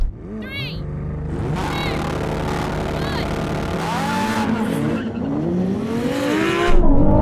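Ferrari 296, McLaren 750S, Lamborghini Huracan Performante and Porsche 911 Turbo drag racing, engines revving and rising in pitch through gear changes, with a brief tyre squeal; loud and close throughout, with people shouting and talking over the noise.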